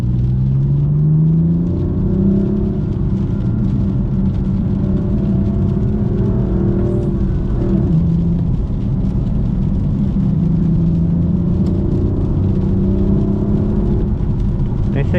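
Low engine rumble and steady road roar from a manual BMW M4 Competition F82 driving through a rainstorm, continuous and fairly loud throughout, with broadband hiss of rain and spray layered over it.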